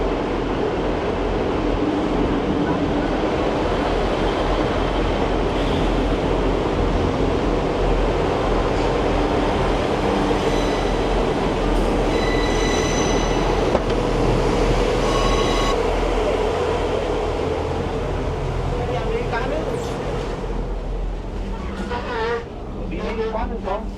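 A passenger train from Leeds to Hull rumbles along with a steady, loud broadband roar from inside the carriage, joined by intermittent squeals and clanks, and the noise eases slightly near the end.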